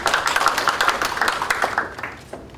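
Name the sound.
audience applause for the next speaker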